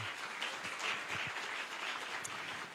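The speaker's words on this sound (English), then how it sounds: "would you give her a big round of applause?" Applause from an audience at a Carmel Civility Project community meeting, a moderate, steady patter of many hands clapping heard from a distance for nearly three seconds, with no talking.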